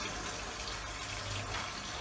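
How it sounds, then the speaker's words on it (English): Water pours steadily as a pump in a sink full of water pushes it through a hose into a birth pool, a continuous, even gushing rush close by that never pauses. "We're going to use it in a sink full of water to transfer water through the hose and into the birth pool."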